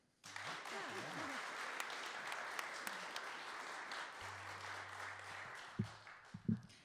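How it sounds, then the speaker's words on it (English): A crowd claps steadily and warmly for several seconds, a dense wash of applause with a few voices beneath it near the end. "Please give a warm round of applause"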